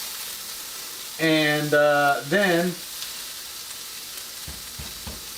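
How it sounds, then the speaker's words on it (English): Salmon pieces frying in a pan give a faint, steady sizzle, with a brief voice speaking over it early on. "I'm cooking the salmon in the pan"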